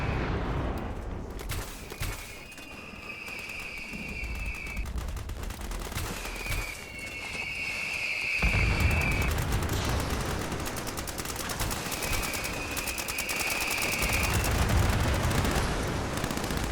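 Heavy explosive weapon fire in the video game Fallout 76: dense, continuous rumbling barrage of rapid shots and blasts, loud and sustained throughout, with recurring high whining tones layered over it.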